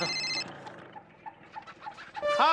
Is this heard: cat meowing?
no